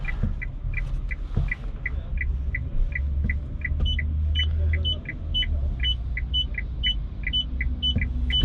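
An RKS D2 small electric car reverses slowly into a parking spot, its reversing alert chirping in a quick, regular beep pattern over a low, steady rumble.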